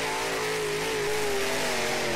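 A sprint car engine revs hard while the car drifts in the video game Dirt Trackin Sprint Cars. The tone is steady and mid-pitched and holds loud and constant, with no pause.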